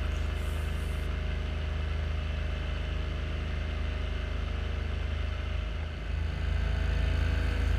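A paramotor engine drones steadily and loudly throughout an evening flight over the Alpilles, a continuous close buzzing hum with no breaks and no voices.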